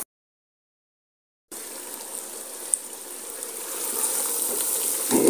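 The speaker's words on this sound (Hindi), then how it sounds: "पानी लगा के धो के बीच में डालूंगी।" Running water from a tap rinses whole spices (cardamom, cloves, cinnamon stick and cumin) in a home kitchen, a steady broad gush starting after a short silence and swelling slightly toward the end, close and alone.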